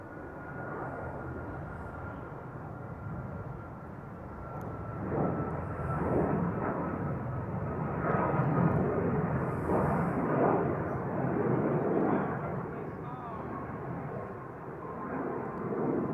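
An Alaska Airlines jet takes off from Honolulu for Seattle, its engines a broad distant roar that swells and fades over sixteen seconds, rumbling continuously with a faint high whine.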